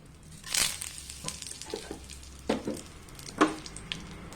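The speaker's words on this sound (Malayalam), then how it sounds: "നമുക്ക് ലോ ഫ്ലെയിമിലാക്കിയതിന് ശേഷം ഇതിലേക്ക് നമുക്ക് കറിവേപ്പില ഇട്ട് കൊടുക്കാം" Curry leaves hit hot oil over a low flame while making peanut masala, giving a soft crackling sizzle with a few sharp pops and scrapes, fairly quiet and close, no voices.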